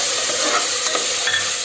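Green peas and dry fruits frying in oil in a pan for a spicy peanut tomato pulao, a loud steady sizzle and hiss with faint stirring scrapes and no voices.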